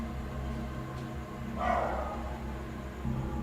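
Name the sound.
dogs barking continuously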